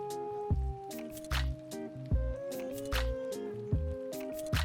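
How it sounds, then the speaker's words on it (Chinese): Egg salad mixture being stirred for a sandwich filling, giving repeated wet squishing, squelching strokes at a steady rhythm, close and fairly loud with no talking. "最后搅拌均匀"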